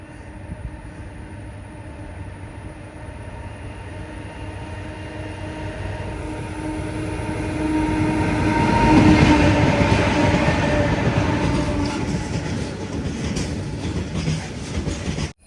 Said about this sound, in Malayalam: ഒരു ഗുഡ്സ് ട്രെയിൻ വരുന്നുണ്ട്.